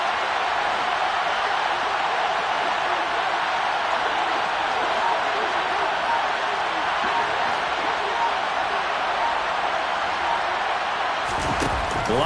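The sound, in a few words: football stadium crowd cheering before third and goal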